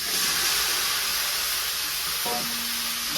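Curry poured into fried onions in a home kitchen makes a steady, loud sizzle and hiss that fills the whole stretch, with a brief clink near the end and no talk.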